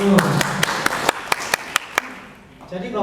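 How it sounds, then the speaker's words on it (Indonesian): Applause from an audience at a talk about fuel: about eight distinct claps in an even rhythm, fairly close, then fading, with a voice speaking faintly at the start and at the end. "Tepuk tangan Bapak Ibu."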